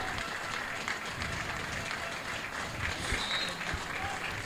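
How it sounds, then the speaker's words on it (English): A minute's applause from the crowd at a non-league football match between Slough Town and Merthyr Town, a steady, distant wash of clapping that fills the stadium continuously. "So that's why there is the minute's applause here at the moment."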